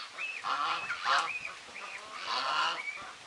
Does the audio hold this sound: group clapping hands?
no